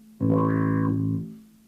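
A single short bass note played through an effects pedal for a funk tone, sounding processed and slightly distorted, starting abruptly and sustaining about a second before fading, heard alone.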